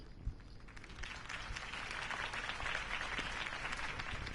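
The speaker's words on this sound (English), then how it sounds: "could have heard that applause" Crowd applause follows a mayoral campaign speech in the video game Batman: The Telltale Series, a quiet, steady wash of clapping that swells slightly and carries on for several seconds.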